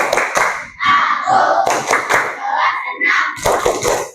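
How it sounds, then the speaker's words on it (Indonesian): A sixth-grade class performs a rhythmic clapping cheer, sharp bursts of hand claps in a patterned beat mixed with children's chanted voices, close and loud in a classroom. "Kalau senang kita kasih tepuk kelas 6 dulu ya"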